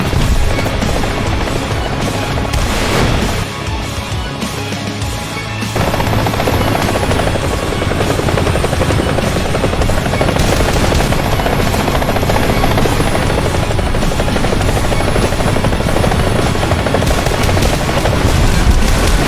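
Helicopters in War Thunder during a battle against a kamikaze drone swarm: a loud, continuous rotor roar with heavy booms and bursts of gunfire mixed in, sustained throughout.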